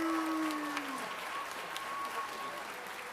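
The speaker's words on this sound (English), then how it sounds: "How about another round of applause for Gerald?" An audience claps steadily in a hall at a school band concert, a continuous patter of applause, with a brief held tone at the start.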